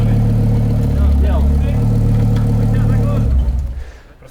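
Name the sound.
restored Audi S4 engine running at first start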